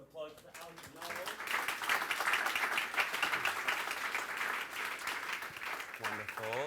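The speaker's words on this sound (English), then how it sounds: "Round of applause for Alex and Noel." An audience applauds two speakers at the close of a talk show Q&A session, the clapping swelling in after a brief pause and holding steady, with a few voices audible at the start and end.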